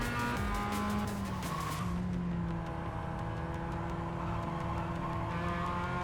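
A race car laps the Oschersleben circuit in the iRacing sim, its engine droning steadily and close, with shifting revs and tire squeal as it brakes and turns through corners. Nobody speaks.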